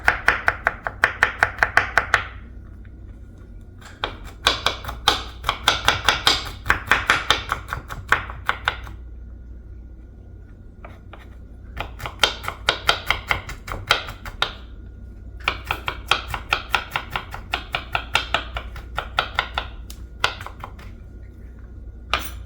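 A knife chops radish into small slices on a cutting board, with bursts of rapid, crisp taps in steady rhythm separated by short pauses, close and clear.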